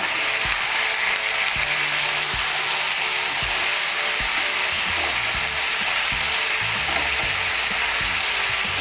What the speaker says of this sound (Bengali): শীষ পালংটাকে তেলের সঙ্গে ভালো করে মিশিয়ে নেব।